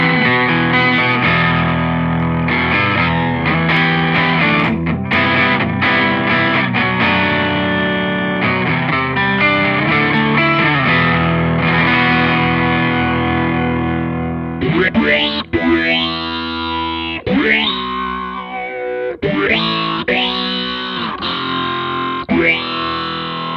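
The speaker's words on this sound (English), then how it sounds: "You can actually get by putting that through this heavy distortion" An electric guitar played through a heavy distortion pedal from a Soundblox multi-effects unit, thick buzzing sustained chords followed by choppy, synth-like gated notes and short bursts.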